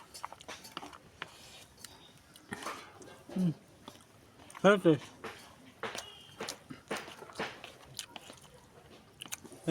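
Someone chews lunch close by with soft crunchy bites and mouth sounds, scattered between quiet background noise, faint voices and occasional thumps.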